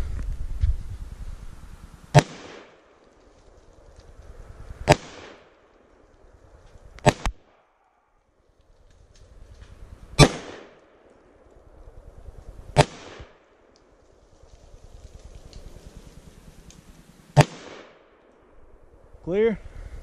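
Desert Eagle .50 AE pistol fired one-handed outdoors: six loud, sharp shots spaced a few seconds apart, each with a booming decay, with some talking between them.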